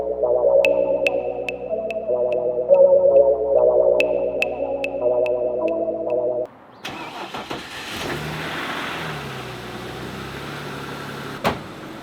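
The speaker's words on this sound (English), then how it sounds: "I'm gonna go pull in the BMW M4" A BMW M4 cranks and fires up after sitting for a week, the starter whine cutting to a loud, close engine that settles into a rough idle, with someone speaking over it.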